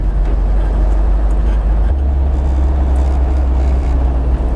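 Porsche 914 race car under way, its engine droning loud and steady close by with a shift in tone partway through as it changes gear, no talk over it.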